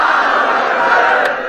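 A large crowd at a religious gathering roars back in unison in response to the Naara-e-Takbeer slogan, a loud, sustained massed shout filling the whole moment.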